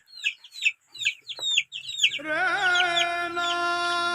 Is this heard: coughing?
no